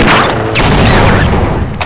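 Exploding penguin creatures in a video game blast in a loud, dense, continuous burst of booming noise that fills the short moment, close and overwhelming with no talk over it.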